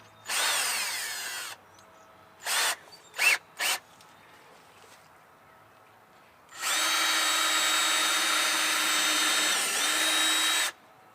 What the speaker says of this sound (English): I always do a pre-drill hole so it's easier for my pieces to go in